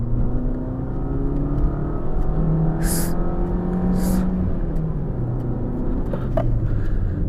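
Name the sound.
Maruti Suzuki Swift VXi automatic car accelerating on open road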